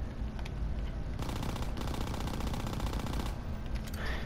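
Thompson submachine gun fired in a video game, sustained rapid automatic bursts running nearly the whole time, loud and close, with a brief pause before the firing resumes.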